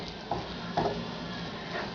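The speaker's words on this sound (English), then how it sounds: "they're crushing up a little too as I stir them." Beans being stirred and mashed in a pan for refried beans, a soft scraping churn with two brief clunks of the utensil, low sizzle underneath, close by with no talking.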